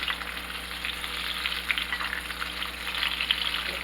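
Salmon fillet frying in butter in a pan while being basted, a steady bright sizzle and crackle running throughout, close and fairly loud, with no talking.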